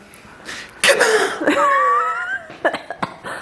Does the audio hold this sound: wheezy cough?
yes